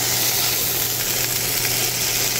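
Food sizzling steadily in a pan on a cooker powered by a Bluetti AC180 portable power station, a close, even hiss with no talk.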